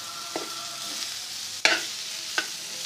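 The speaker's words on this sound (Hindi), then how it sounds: "बहुत अच्छा सा मिक्स करेंगे इसको यहाँ पर।" Boiled potatoes are stirred into a spice mixture for samosa filling, producing a low background sizzle punctuated by three distinct spatula scrapes against the pan, the middle one loudest.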